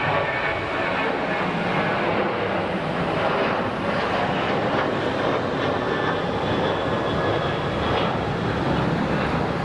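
A Southwest airliner rolls down the runway at Phoenix Sky Harbor, its jet engines giving a loud, steady roar with wind rumble throughout and no clear voices.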